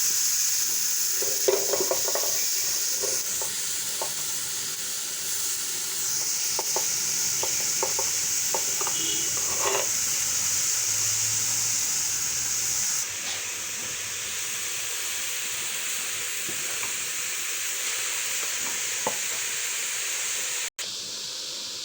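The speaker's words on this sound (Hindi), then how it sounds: "घी डाल के उस मिर्च डाल दी मैंने, भून के इसको बहुत अच्छी शानदार खुशबू आएगी।" Chillies frying in ghee for carrot halwa, a steady loud sizzle and hiss throughout with intermittent scraping of a spoon stirring the pan, close and without talking.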